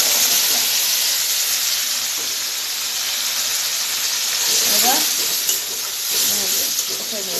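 Spices, browned onion, ginger, garlic, cumin and coriander frying in oil in a pan, a loud continuous sizzle and hiss with occasional scraping stirs close by.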